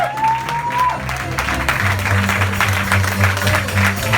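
Church congregation applauding steadily, dense continuous clapping filling the hall, with a sustained organ or keyboard tone underneath.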